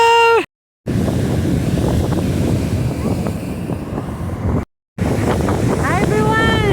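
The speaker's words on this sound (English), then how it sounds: "Here we are at the beach. Oh, it's really windy today. Look at those waves." Strong wind buffets the microphone at the beach while ocean waves roll and crash in the background, loud and steady with two brief dropouts; people talk at the start and end.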